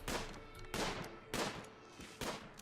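Four sharp rifle shots ring out from a colonist hunting in RimWorld, spaced roughly half a second apart, moderately distant and fairly quiet, with no talk over them.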